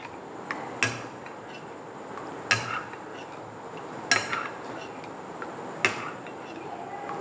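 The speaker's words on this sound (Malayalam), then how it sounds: "അപ്പോൾ നമ്മൾ വീണ്ടും അത് ഒന്നുകൂടെ മിക്സ് ചെയ്യുക." A spoon stirs cake batter with ghee and semolina in a bowl, giving four evenly spaced clinks against the bowl's side over a soft, steady background with no talk.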